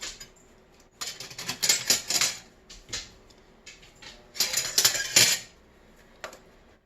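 Metal kitchen tongs lift cooked chicken pieces from chicken corn soup onto a plate, heard as clusters of light clinks and scrapes against metal and crockery, close and irregular, with pauses between.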